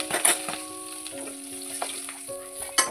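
Fish sizzles and crackles in frying oil at close range, a moderate, continuous sputter with a few sharper pops, while faint steady tones hum in the background.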